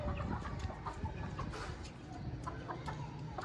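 A rooster on an Aseel chicken farm clucks repeatedly in short, irregular bursts while being offered feed, close by, with faint farm background around it.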